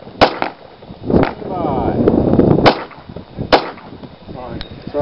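Handgun shots fired during a concealed-carry qualification string on a shooting range, several sharp loud reports spaced apart, with a range officer's spoken command between them.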